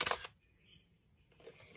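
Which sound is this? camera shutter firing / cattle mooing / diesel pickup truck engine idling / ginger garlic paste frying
camera shutter firing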